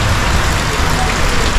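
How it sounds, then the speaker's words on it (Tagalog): Heavy rain drums steadily and loudly on a surface close by, a dense unbroken downpour with no voices. "Lakas yung ulan"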